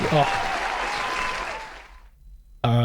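A small podcast audience applauds for Jonah, a short burst of clapping that fades out before a voice cuts in at the end.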